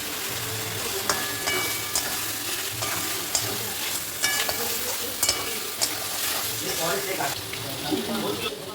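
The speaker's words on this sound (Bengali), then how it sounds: "এবার আমি মশলার মধ্যে এই ছাড়ানো মাংসটা দিয়ে নেব" Pieces of chicken sizzle and fry in a spice paste in a pan, with steady crackling and occasional stirring scrapes, loud and close throughout.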